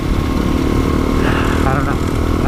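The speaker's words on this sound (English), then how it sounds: "Just some dude riding a dirt bike" A dirt bike ridden on a dirt road, its engine a loud steady drone with rising revs and rattling, close and constant, while someone talks over it.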